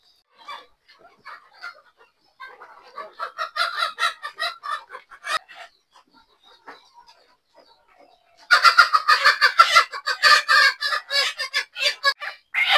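Chickens cluck and crow at a red layer hen farm in Dhamrai, Dhaka, in a busy flock chorus that grows louder and denser midway, with scattered calls rising over a steady cackling.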